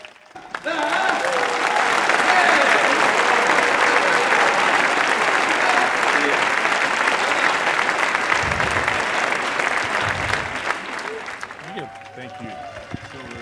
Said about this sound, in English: And so an Earthkeeper round of applause to honor David Hatcher Childress.